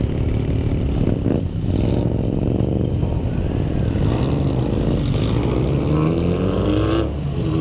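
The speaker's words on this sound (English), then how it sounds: "capture all the sound today of the exhaust notes on these bikes" Loud, continuous engine rumble from several motorcycles idling and revving nearby, with a steady throaty exhaust drone throughout.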